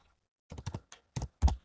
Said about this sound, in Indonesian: Kita juga akan mengetik